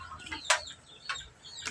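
Breeding hens cluck nearby in several short, sharp bursts spaced irregularly over a quiet farmyard background.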